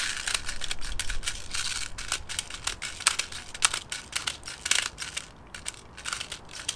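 Airsoft BBs are pressed into a PTS EPM magazine with a speed loader, making a steady run of close, crisp clicking and crunching with short pauses in between.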